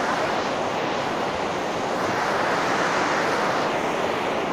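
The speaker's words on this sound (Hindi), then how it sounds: "यहाँ बहुत बहाव तेज है।" Fast-flowing river water at Bhedaghat, Jabalpur makes a loud, continuous broadband rush that holds steady throughout, close by and without a break.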